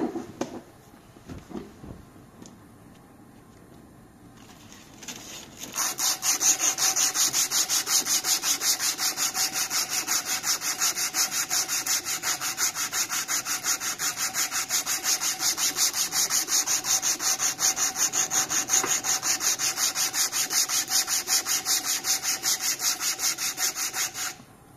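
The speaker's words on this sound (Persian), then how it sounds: "حالا به نسبت هم ما در حین سنباده زدن نگاه میکنیم بچه ها." Steady, loud rasping of sandpaper worked back and forth over a wooden knife handle, starting after a few seconds of quieter handling and continuing evenly to the end with no talk.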